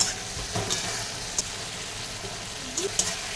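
Meat frying for kosha mangsho, a steady sizzle with occasional stirring scrapes and clinks, close by, with faint voices in the background.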